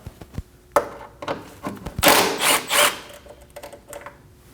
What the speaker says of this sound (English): Next up, we're going to remove this 12mm bolt. Using a 12mm socket, go ahead and take it out.